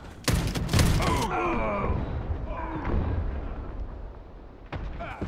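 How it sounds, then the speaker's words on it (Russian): A grenade goes off in the shooter video game Warface, a couple of sharp, loud blasts with a rumbling tail, followed by a grunting voice and another sharp burst near the end. "Граната пошла!"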